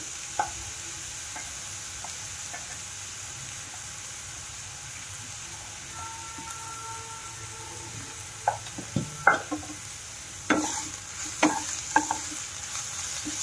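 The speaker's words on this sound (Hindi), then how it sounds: "दो मिनट में पहले मूली और गोभी को भून लेती हूँ।" Grated radish and cauliflower frying in a pan make a soft, steady sizzle, with occasional spatula scrapes and knocks growing more frequent toward the end.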